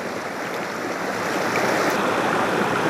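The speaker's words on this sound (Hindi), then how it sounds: "साफ और शफाफ पानी बहकर आ रहा है।" Clear water flowing in a stream near Khuna village in Samahni, a continuous even rushing and babbling that stays steady and fairly close with no voices.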